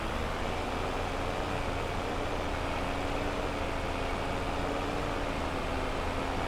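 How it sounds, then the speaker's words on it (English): A water tanker truck's engine runs steadily in Farming Simulator 22, a continuous low rumbling drone with an even broadband hum that holds at a constant level throughout, with no voices. "let's go grab the water tanker"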